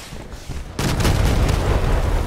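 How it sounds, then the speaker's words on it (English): Artillery fire in the vehicle combat game Crossout: after a quieter moment, a loud booming blast erupts and rolls on into a sustained heavy rumble. "Artillery. It's dangerous."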